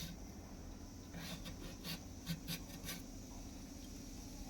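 Quiet, soft rasping scrapes as a washed whole mango is scraped with a boti blade, a few short strokes clustered in the middle against a steady low background hum.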